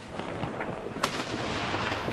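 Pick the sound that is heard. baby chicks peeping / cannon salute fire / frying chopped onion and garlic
cannon salute fire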